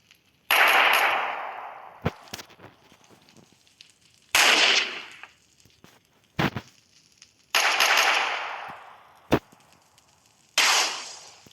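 Gunfire from a weapon in a video game: four long loud bursts of rapid automatic shots, each lasting over a second, separated by sharp single clicks and quieter gaps, close and without talk.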